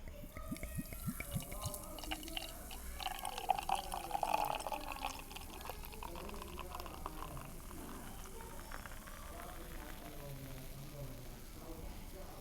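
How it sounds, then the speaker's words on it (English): Beer Loud Dark beer pours into a Stella Artois glass with a close, wet glugging and fizzing stream that swells in the middle and then settles into a soft continuous hiss, while someone talks over it. "But hang on, listen to the pour."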